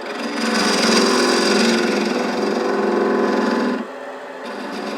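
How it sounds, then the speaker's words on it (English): Wood spinning on a lathe while a hand drill marks depth in the workpiece for a chess rook box lid, a loud steady whirring grind that drops off sharply near the end, close and alone. "I'll use a hand drill to mark the depth"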